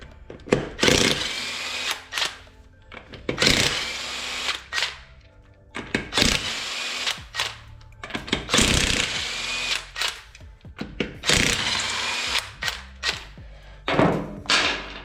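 Work on removing a wheel from a Subaru Impreza 2.5RS, with repeated bursts of a power tool such as an impact wrench, each lasting about a second, plus thuds and clunks in between, recorded close by.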